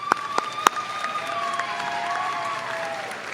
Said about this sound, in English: I think we should give all of your family and friends a big round of applause.